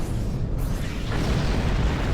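A ship in Star Trek Online is caught in a sustained roar of explosions, with dense, loud booming rumble and no pause.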